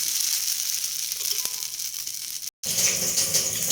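A dosa cooks on a hot pan with a bright, steady sizzle that cuts out briefly near the end and then returns, with a faint tap partway through.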